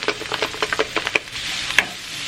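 Onion being stirred in a hot pan with ginger, a run of short scraping, sizzling strokes in quick succession, then a steadier frying hiss that ends in one sharper clack.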